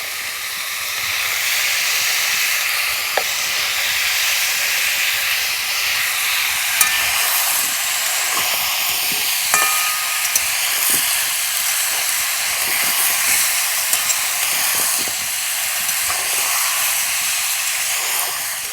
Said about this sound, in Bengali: এই তেলের মধ্যে এঁচোড়টা দিয়ে ভেজে নেব।